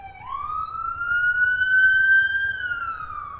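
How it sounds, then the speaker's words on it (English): A single sustained siren tone rising and holding steady, then gently falling, loud and clear over a faint low rumble, with no speech. "That's an ambulance."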